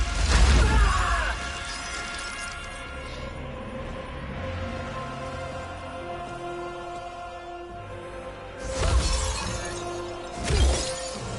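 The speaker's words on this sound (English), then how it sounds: "Shatters the hourglass." A shattering crash as an hourglass breaks in the Mortal Kombat 11 fighting game, with loud bursts near the start and again around the end over a steady layer of game music.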